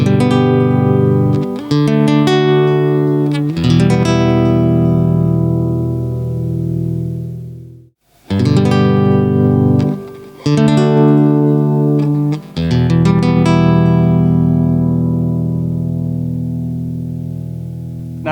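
Two Ortega Tourplayer nylon-string guitars strummed back to back, each ringing chords that decay and restart, with a short silent gap between the two guitars and no talking.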